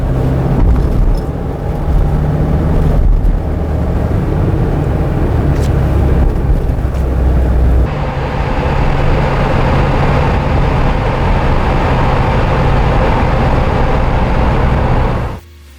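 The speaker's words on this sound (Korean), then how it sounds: "주행 시 소음은 시속 80km에서 측정하였습니다." Steady, loud drone of a Kia Bongo 3 one-ton truck cruising at 80 km/h, engine hum and road roar blending continuously, with a slight shift in tone midway.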